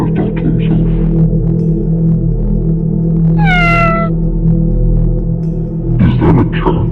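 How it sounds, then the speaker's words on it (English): A cat gives one drawn-out, rising-then-falling meow over a steady low electrical hum in a school building, followed by a short burst of shuffling movement; no one speaks. "Is that a cat?"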